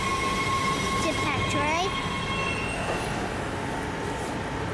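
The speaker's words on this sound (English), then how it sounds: "All right, this is our train, buddy." Train on a rail line, a loud continuous rumble of rolling cars with high metallic wheel squeals rising and fading over it, heard close by.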